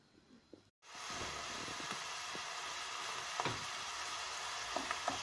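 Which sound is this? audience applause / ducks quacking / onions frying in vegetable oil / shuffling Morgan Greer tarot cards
onions frying in vegetable oil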